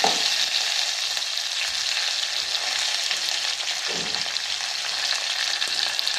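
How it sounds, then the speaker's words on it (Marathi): Mustard seeds crackle and pop in hot oil while tempering dal, a dense continuous sizzle with scattered sharp spatters throughout, fairly close and steady with no talking. "आणि मोहरीचा असा तडतडणारा आवाज आला की मग जिरं टाकायचं"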